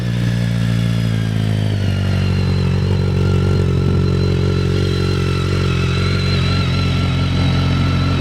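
A 2010 BMW K1300GT motorcycle engine runs steadily at idle close by, a loud, even, throbbing hum with a faint mechanical clatter and no pauses.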